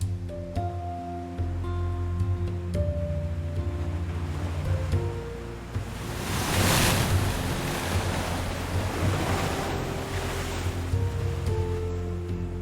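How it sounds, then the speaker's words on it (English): Powerful Atlantic breakers off the Guelmin coast crash against rocks, a loud, continuous roar with a big surge of white water building midway, recorded close by with no voices. "In Guelmin, too, the waves crush with enormous force against the rocks."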